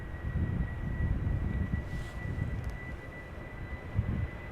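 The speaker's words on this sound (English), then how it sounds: "KLM A330 to Brussels up next." A twelve-year-old KLM Airbus A330-300 bound for Brussels at Schiphol Airport rumbles faintly in the distance, a low, steady engine roar with a thin constant whine above it.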